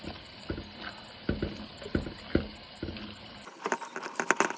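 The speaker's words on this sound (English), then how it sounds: "Here I'm just rinsing the beans, giving them a good wash." Tap water running while green beans are rinsed in a kitchen, an uneven splashing stream with soft pattering bursts, then a brighter, more broken spatter near the end.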